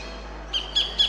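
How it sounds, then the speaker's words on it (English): A sacred kingfisher calls in a park on the Cumberland Plain, giving three short, sharp, high notes spaced evenly after a brief quiet stretch, fairly near and clear against faint background hiss. "And here's a sacred kingfisher."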